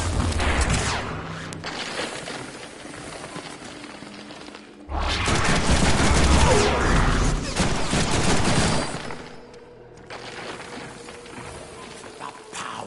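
Gunfire rattles in the Deadpool video game, with bursts of rapid shots and crashes, loud and dense in places, under game sound and faint voices.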